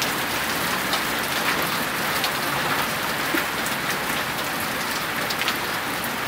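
Heavy rain pours down steadily during a storm with pea-sized hail, forming a dense, even hiss with scattered sharper drop impacts and no voices.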